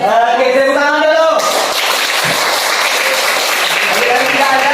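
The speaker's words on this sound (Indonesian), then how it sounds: "Oke, tepuk tangan dulu." Students in a Grade 12 social studies classroom break into applause after a group presentation, a burst of dense clapping following a voice and continuing steadily, close and fairly loud.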